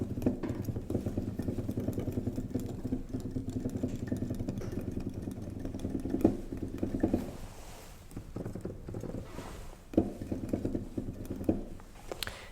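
Steady rapid clattering and thumping of the keys of a Roland FP30X digital piano with PHA-4 action, a dense mechanical patter at close range with a few louder knocks.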